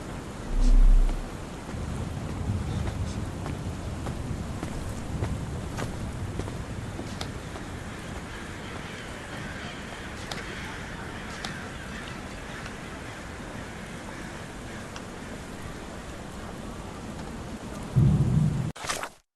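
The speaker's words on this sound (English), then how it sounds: "This weather is so bad. Do you think a storm is coming?" A thunderstorm in the Sherlock Holmes The Awakened video game: constant heavy rain hisses throughout, a deep thunder rumble bursts near the start and another loud crack rolls in near the end, with no voices.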